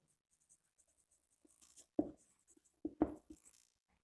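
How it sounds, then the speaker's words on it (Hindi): Short scratchy strokes of writing on a board during a commerce lesson, a few brief bursts close by with quiet gaps in between and no talking. "मतलब यहाँ पे लिख देता हूँ एवरेज प्राइस"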